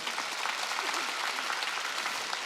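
Church congregation at a Wednesday worship service breaking into applause, a soft, even wash of many hands clapping together, steady and somewhat distant throughout.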